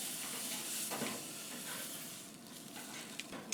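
Meat sizzles quietly on a Big Horn infrared grill just after flipping, a soft, continuous crackling hiss with a few faint pops and no talking.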